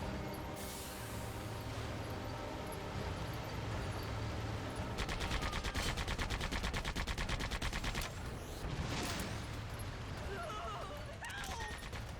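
Tank guns fire at raptors in the video game Sand Land, with a continuous stream of gunfire that peaks in a dense, rapid machine-gun burst midway, loud against a busy game soundscape.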